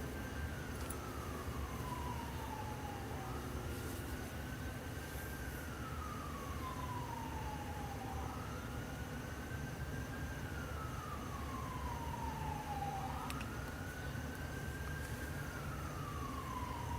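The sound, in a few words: siren passing nearby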